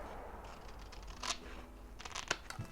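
Scissors snipping through a small overlapped piece of paper while assembling a junk-journal pocket page, a few quiet, brief cuts over low room noise with no talking.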